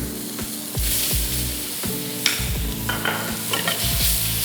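Celery and mushrooms stir-frying in a hot pan for a Chinese-style dish, with steady sizzling broken by repeated scraping and tossing strokes of a utensil, close and fairly loud, with no talk.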